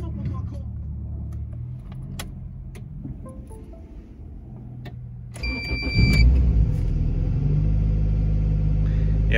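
A Honda engine on an AEM Series 2 standalone ECU, with 800 cc injectors, compression above 13 to 1, a 70 mm throttle body and a lightweight flywheel, cold-starts at minus 4 Celsius. Quiet background gives way to a brief crank, then a loud, steady idle.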